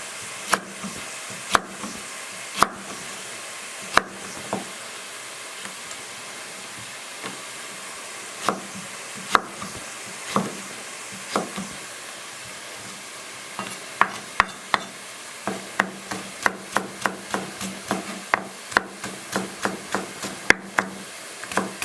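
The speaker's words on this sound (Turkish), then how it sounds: "3 tane havucumuzu küçük küçük küp doğrayacağız" Three carrots are diced into small cubes with a knife on a board, sharp chops that start sparse and irregular, then quicken into a brisk run, over a low sizzle of frying in the background.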